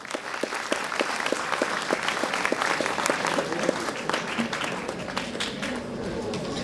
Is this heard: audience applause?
yes